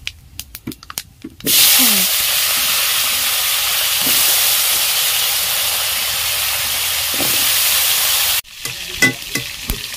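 Panch phoron spices hit hot oil in a village kitchen and burst into a loud, steady sizzle lasting several seconds, then cut off abruptly as clattering kitchen sounds return.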